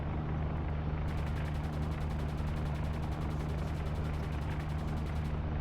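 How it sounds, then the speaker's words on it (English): Aircraft strafing a U-boat in the video game UBOAT, a rapid rattling burst of machine-gun fire over a constant low engine drone, steady and moderately loud. "Oh, they're strafing us."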